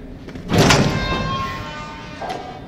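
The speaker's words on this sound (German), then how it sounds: "Eine Tür." A heavy in-game door in Resident Evil 7 opens with a loud scraping, rumbling slide that swells and then slowly fades, followed by a fainter secondary knock near the end.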